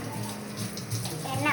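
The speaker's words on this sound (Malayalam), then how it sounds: "എണ്ണ ഒഴിച്ച്" Cooking oil is poured into a pan for frying dried red chillies for a chutney. A short, close, gurgling pour is heard, with a voice faintly present underneath.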